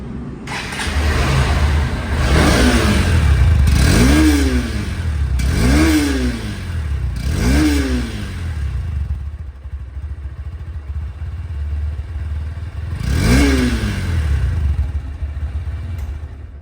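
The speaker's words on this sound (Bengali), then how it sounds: "এই বাইকটির সাউন্ড দেখার কি প্রয়োজন আছে" A Honda Hornet 2.0 motorcycle engine revs repeatedly, each throttle blip rising and falling in pitch over a steady idle rumble, close by with no talking.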